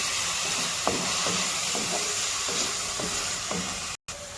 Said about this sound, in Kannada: ಈರುಳ್ಳಿ ಬ್ರೌನ್ ಕಲರ್ ಬರೋವರೆಗೆ ನಾವು ಫ್ರೈ ಮಾಡ್ಕೊಳ್ಬೇಕು ಲೋ ಫ್ಲೇಮಲ್ಲಿಟ್ಟು ಫ್ರೈ ಮಾಡ್ಕೊಳ್ಳಿ